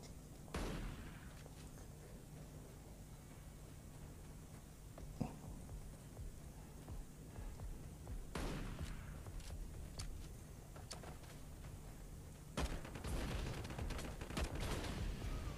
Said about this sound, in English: Let me just shoot this believer